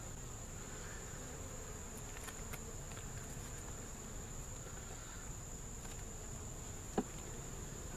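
Honey bees from a country hive humming steadily at the hive, a faint, even drone with no voices, a small tap near the end.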